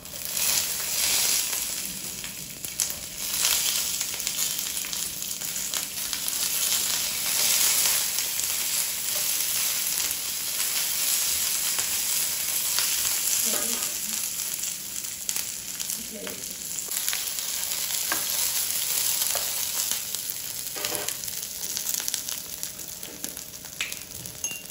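Green chillies frying in oil in a pan for a Telugu tomato peanut chutney, a steady close hiss and sizzle running throughout with faint scraping stir noises and no talking.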